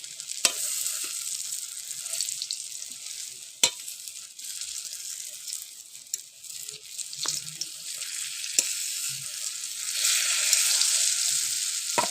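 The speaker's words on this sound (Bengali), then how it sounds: "খুন্তি দিয়ে চেপে চেপে আমি ভালো করে ভেজে নিয়েছি" A steady, close hiss of lentil fritters frying in oil, punctuated by sharp taps and scrapes as a metal spatula presses and flips them, the sizzle growing stronger toward the end.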